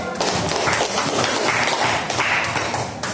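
Students in a classroom clap for a classmate, a dense burst of hand claps from a small group lasting about three seconds, fairly close and loud.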